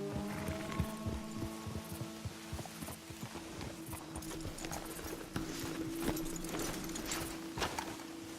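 Horses' hooves clip-clopping at a slow walk in Red Dead Redemption 2, with steady soft hoofbeats joined by faint tack jingling and creaking, and no voices.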